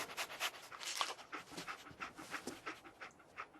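A dog panting in the video game Fallout 4, quick rhythmic breathy huffs repeating steadily and close, fairly quiet, with no talk over it.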